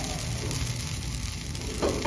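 A ladle of batter sizzles in a hot nonstick pan over low heat, giving a faint, steady, close hiss with no speech.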